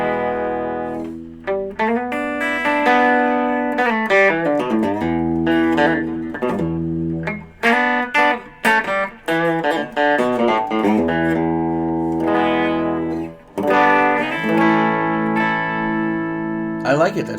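A Leo Jaymz single-cut Les Paul copy electric guitar is played through its bridge pickup, sounding bright, loud and close as chords and single-note lines ring out with short pauses between phrases.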